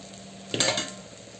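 A besan poli flatbread flipped on a hot pan, one brief soft slap and rustle against a faint steady sizzle, no voices.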